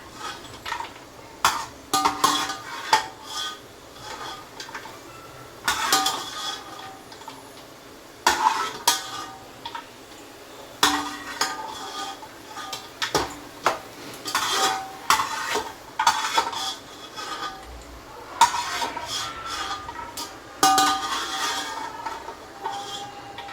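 Peanuts and coconut pieces being sautéed in a pan while making a thin poha chivda, with repeated scraping and stirring clatter of a utensil against the pan over a faint sizzle, in uneven bursts.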